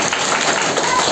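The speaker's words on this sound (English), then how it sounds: "Clap your hands." Children in a classroom clap their hands together, forming a short, dense burst of many overlapping claps that stays at an even level throughout.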